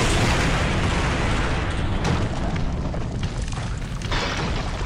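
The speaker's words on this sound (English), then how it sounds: "That's a nice explosion." A loud explosion in The Witcher 1 video game, during a battle to defend a laboratory, fills the whole stretch as a dense, sustained roar of rumbling noise that holds at steady volume, with no voices over it.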